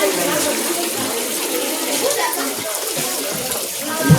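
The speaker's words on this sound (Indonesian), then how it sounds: "Siram dengan air sabun," Soapy water splashing and pouring continuously over a body during a ritual corpse washing, a close, rushing wash with a voice speaking over it.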